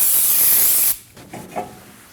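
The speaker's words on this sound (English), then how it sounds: "Using some brake parts cleaner. Go ahead and wipe it off." A steady hiss of brake parts cleaner sprays onto a front brake rotor of a 2017-2024 Nissan Armada for about a second. The spray cuts off, then a few soft rubbing wipes follow up close.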